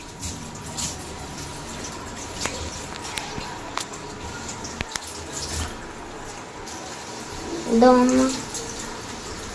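Cauliflower is rinsed under a running kitchen tap, with a steady hiss of flowing water and small splashes and clinks throughout, while people talk over it.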